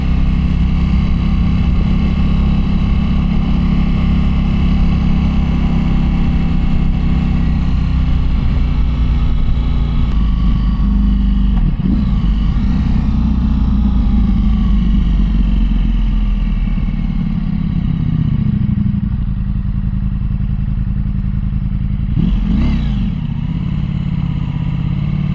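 BMW motorcycle riding along a mountain road, its engine droning loud and steady throughout with brief shifts in pitch as it changes speed, plus wind rush and no talk.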